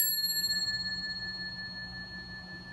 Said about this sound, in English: Now let me share with you some clearing energy. It is a bell.